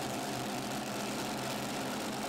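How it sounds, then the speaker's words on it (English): Multi-engine tractor pulling machine with four supercharged methanol-fuelled V8 Hemi motors at a Eurocup finals pull, a dense, loud, unbroken roar of engines filling the air without pause. "Four V8 Hemi motors on top of this machine."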